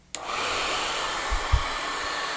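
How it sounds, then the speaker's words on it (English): A hair dryer switches on at high setting with a sharp click, then blows a steady loud whooshing hiss throughout, with a couple of low thumps partway through and no voices. "We're going to turn on the hair dryer on high."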